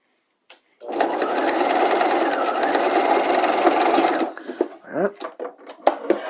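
Close sewing machine running steadily for about three and a half seconds while stitching a princess seam on a structured bodice shell of fashion fabric, followed by a brief pause and faint handling and talk.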